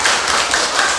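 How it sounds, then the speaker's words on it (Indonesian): A class of students claps together in a brief burst of dense, overlapping applause. "Tepuk tangan untuk kita."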